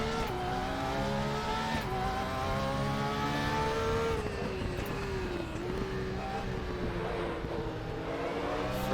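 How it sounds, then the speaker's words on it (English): Car engine running hard in second gear and bouncing off the rev limiter, a loud steady high-revving whine with a sharp stutter and pitch dips as it pulls along a track, close and continuous throughout. "There's another rev limiter there in second gear."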